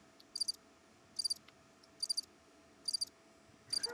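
Crickets chirp in short regular bursts, five evenly spaced trills against quiet background hiss, played as a comedic silence cue after a joke.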